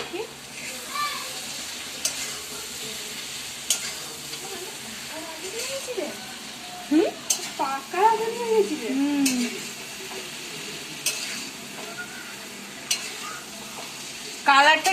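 Meat being stirred in a cooking pan, faint scraping and sizzling under people talking, with children's voices nearby and a few sharper utensil knocks.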